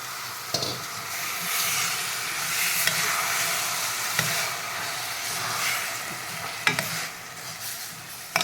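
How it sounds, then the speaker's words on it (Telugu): Soaked rice with toor dal and moong dal stirred in a pot over low heat, a steady scraping and sizzling texture with a few sharper clinks of the spoon against the pot, close and fairly loud, no talk. "కొంచెం తక్కువ మంట పెట్టుకొని సిమ్ పెట్టుకొని బాగా కలుపుకోవాలండి"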